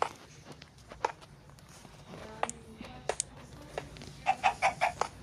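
Chickens in the video game Minecraft give soft, scattered clucks alongside light footstep sounds, faint and intermittent in a quiet game scene.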